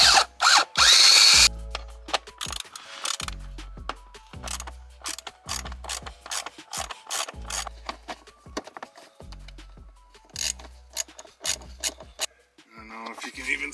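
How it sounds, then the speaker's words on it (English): Ratchet clicking away at small 7 mm bolts on the HVAC cage of a second-generation Chevrolet Silverado cabin air filter housing, with repeated bursts of rapid metallic ticks and short pauses between strokes, close and fairly loud. "we'll go grab a ratchet quick and get that off of there"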